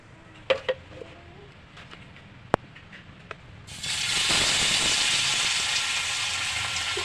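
Kilimeen fish dropped into hot oil, a loud broad sizzle bursting in after a few faint clicks and steadily frying on, close and continuous.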